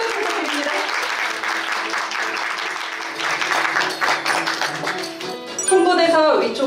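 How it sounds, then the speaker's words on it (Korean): An audience at the KBEE 2021 K-pop event claps and applauds steadily and loudly for several seconds, the clapping swelling slightly toward the end as an announcer's voice comes in over it. "여러분, 큰 박수 부탁드립니다."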